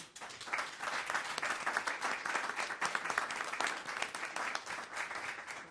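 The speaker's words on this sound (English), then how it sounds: "So let's give them a big hand clap." An audience at a town hall meeting breaks into sustained applause, a dense, even patter of many hands clapping that swells and then tapers slightly, heard at a moderate distance with no talking over it.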